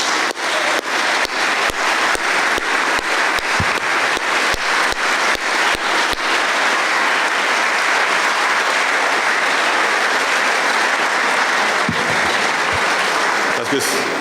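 Sustained applause from an audience at a celebration of Kintoa pork gaining its AOC status, dense and steady throughout with a few sharper individual claps near the start and a brief stir of voices near the end.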